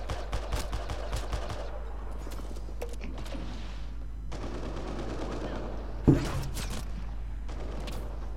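Bursts of gunfire from Mass Effect Andromeda multiplayer combat, dense rapid shots early on with a sharper loud crack near the end over a steady low game hum and faint voice.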